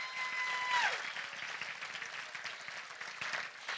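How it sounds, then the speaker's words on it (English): Applause from a gala audience rises in a dense, moderately loud wash of clapping, with a brief whistle or tone near the start, then continues evenly to the end. "Can we hear a big round of applause for our MC tonight, Wish Kid Dylan?"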